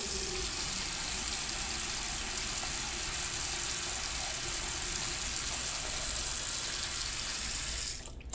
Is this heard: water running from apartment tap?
yes